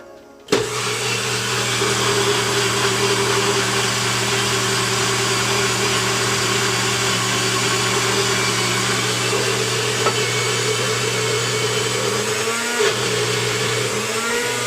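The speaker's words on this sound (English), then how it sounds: "You could do it in a blender or you could do it in a NutriBullet. I'm using my NutriBullet." A NutriBullet blender blending keto ice cream switches on abruptly and whirs loudly and steadily for the whole stretch, its motor pitch dipping briefly near the end as the mixture thickens.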